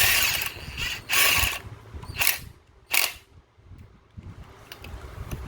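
Ratchet snugging down 5mm bolts on a Honda CBR600F4i engine during teardown: a few short bursts of clicking pawl, close up, separated by quiet pauses.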